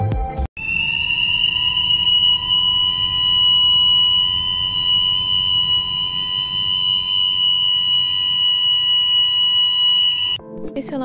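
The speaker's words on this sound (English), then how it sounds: "The second is the fire alarm and sounds like this." A continuous, piercing electronic fire alarm at a school swimming pool blares at a constant pitch for about ten seconds before stopping.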